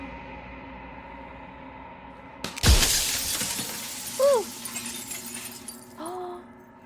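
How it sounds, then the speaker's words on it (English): A glass mirror shatters in Slay the Princess with one loud, bright crash and a spray of falling shards, then a few faint tinkling echoes. A person gives a brief exclamation. "that's the glass noise we've been hearing every time we restart"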